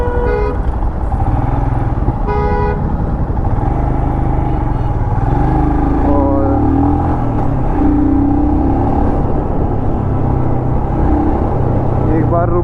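A Royal Enfield Scram 411 motorcycle rides steadily and swings through a U-turn, its engine droning loud and close beneath constant wind and passing traffic, with brief horn toots early on.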